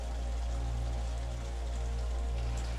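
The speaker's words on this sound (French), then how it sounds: "5 heures du mat, il pleut." Rain falls on a tent at dawn in a steady, dense patter, close and continuous, with a low constant rumble underneath and no voices.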